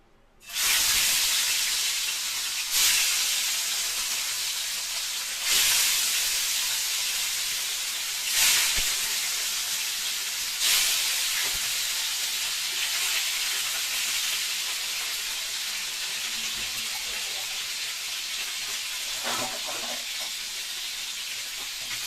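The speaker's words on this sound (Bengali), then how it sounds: "তেলটা গরম হয়ে গেছে, এবার আমি একটা একটা করে মাছ ছেড়ে দেবো।" Bhola fish fry in hot mustard oil, a loud hissing sizzle that surges each time another piece drops in, several bursts in the first half settling into a steady bubbling fry.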